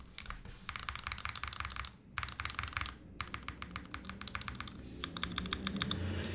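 Typing on an Iquinix Super 1+1 TKL mechanical keyboard with stock stabilizers gives dense, close clacking keystrokes in quick bursts, broken by two short pauses and heavier spacebar thuds.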